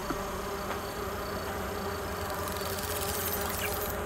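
Buzzing insect swarm in Marvel's Spider-Man 2 video game, a steady droning hum of bees or wolf wasps running continuously, fairly loud and close, with no talk over it.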